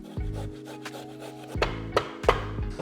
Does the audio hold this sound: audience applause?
no